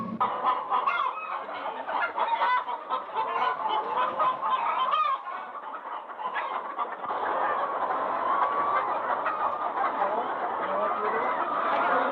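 A flock of hens on a farm in Papara, Tahiti, clucks and squawks continuously, many birds calling over one another at close range, with a brief dip in the middle before the chatter swells again.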